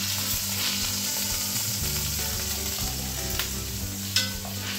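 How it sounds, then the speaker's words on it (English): Beef browning in a hot pan for beef rendang, a steady loud sizzle and frying hiss with occasional stirring clatter, continuous throughout without talk. "Right now we're browning our beef."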